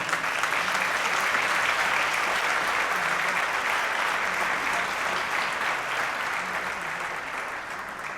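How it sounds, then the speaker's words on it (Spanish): A church congregation applauds in a steady, even wash of clapping at moderate volume, holding throughout and easing slightly toward the end. "Dale el mejor aplauso al Señor."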